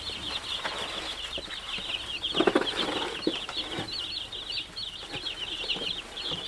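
Young Cornish chicks mixed with buff Orpington and barred rock pullets in a box, peeping in a steady high-pitched chorus with soft rustling and scuffling beneath, fairly close.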